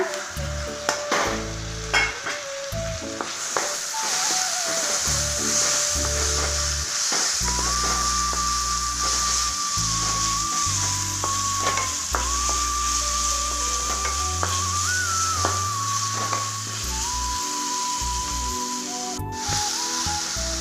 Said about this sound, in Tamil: இப்போ நம்ம தக்காளி சேர்த்து வதக்கலாங்க